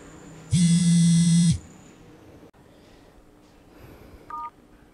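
A phone alerting to an incoming call with one loud, steady electronic ring tone lasting about a second, followed by a faint short beep in a quiet room.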